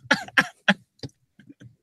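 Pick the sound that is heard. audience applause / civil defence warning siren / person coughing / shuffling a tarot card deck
person coughing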